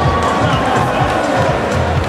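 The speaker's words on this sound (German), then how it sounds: "Nochmal einen großen Applaus für niemand." An audience applauds and cheers during a Guild Wars 2 demo at Gamescom 2011, a dense, steady wash of clapping from a large crowd in a busy hall that lasts the whole moment.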